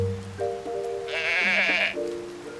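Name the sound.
sheep bleating in video game Tears of the Kingdom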